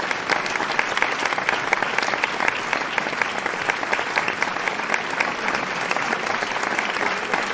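Dense, steady applause from a live concert audience at a show in 2024, filling the whole stretch at an even level with no pauses and no voices on top.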